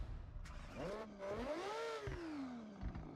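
A car in the Forza Horizon racing game revs up with its engine pitch sweeping upward, then settles into a falling drone as it drives on, loud and close with no voices over it.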